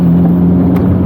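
Toyota MR2 turbo car driving off on a wet, drizzly road, a loud, steady low engine hum with a constant tonal drone, close by and uninterrupted.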